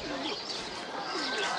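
Soft pigeon cooing mixed with chirps, several birds calling close by over a busy background at a bird market in Hyderabad, Sindh.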